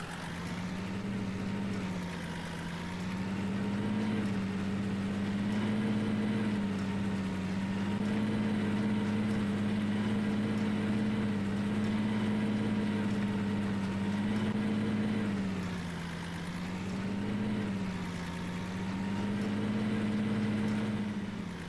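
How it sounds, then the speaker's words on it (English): Tractor pulling a baler in Farming Simulator 19, a steady droning engine hum that rises and dips slightly in pitch as the load changes, continuous and without talk. "this tractor is a bit underpowered for this baler"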